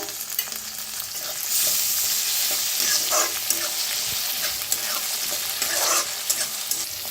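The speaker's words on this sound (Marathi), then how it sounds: "ह्याच्यातच टाकूया टमाटर, त्याला भी भाजून घेऊया।" Tomatoes roasting in a pan with green chillies, a steady sizzle broken by repeated stirring scrapes and clatters throughout.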